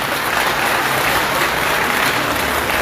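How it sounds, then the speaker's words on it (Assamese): Dense, steady applause from a large crowd of students, loud and continuous throughout with no pauses and no voices above it. "হাত চাপৰি এটা বজা জোৰকে।"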